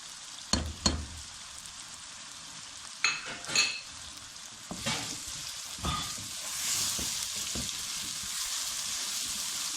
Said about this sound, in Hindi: और इसको थोड़ी देर फ्राई करके